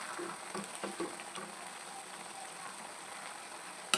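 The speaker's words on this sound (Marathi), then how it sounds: "आपण 10 ते 15 मिनिट अशाच पद्धतीने स्लो गॅस करून हे तेल उकळून घेणार आहोत" Homemade hair oil simmers over a low gas flame, a quiet, soft bubbling sizzle with a few faint pops and clicks, close and continuous.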